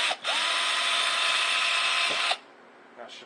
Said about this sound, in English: Let's drill a hole here so the wires will have somewhere to come out of.